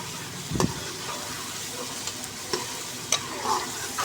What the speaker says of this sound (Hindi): अब इसकी हम तकरीबन 7-8 मिनट तक या आप लोग अंदाजे से इसको फ्राई करें